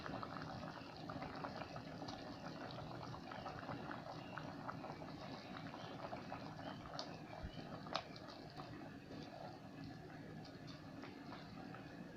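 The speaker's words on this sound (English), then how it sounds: "So allow to boil a little before adding more crayfish" Ofe Nsala white soup with yam paste and crayfish bubbling in a pot, a steady close simmering hiss and gurgle running throughout, with one brief louder pop near the end.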